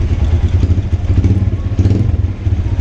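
A motorcycle, one of a Pulsar RS 200, Apache 180 or cafe racer started after sitting two months, runs close and loud with a throbbing, uneven engine beat as the throttle is blipped.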